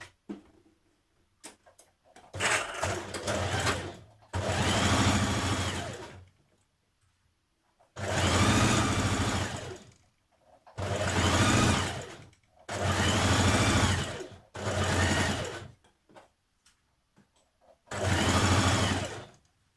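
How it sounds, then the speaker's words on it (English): A sewing machine stitches the side seams of trousers in several loud, close bursts of rapid whirring, each lasting one to three seconds, separated by short pauses. "Now stitch to your front leg to your back leg at your side seams, matching the notches."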